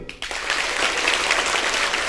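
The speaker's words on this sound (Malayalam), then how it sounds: "നിങ്ങളൊരു ഗംഭീര കയ്യടി കൈയടിക്കൂ" Audience at a school event for a village goat-scheme program breaks into steady, dense applause after a brief quiet start, loud and sustained throughout with no voices over it.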